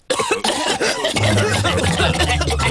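A cartoon character coughs and clears its throat. A few sharp, close bursts come first, then a denser, rougher stretch of coughing continues to the end.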